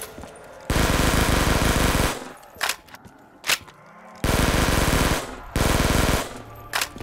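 Automatic gunfire in Call of Duty Black Ops 3 custom zombies, with two long loud bursts separated by sharp single shots and quieter game sounds.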